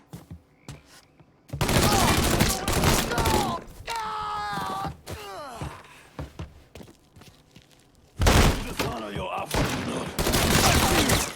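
Heavy gunfire in Mafia 3 rips out in dense, loud volleys at the start and again near the end, with shouted voices and a groaning character filling the quieter middle.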